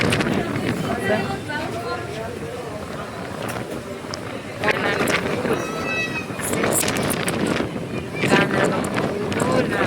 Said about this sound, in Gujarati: અમારે પવન એટલો છે ને કે એમ થાય હમણાં ઉડી જઈશું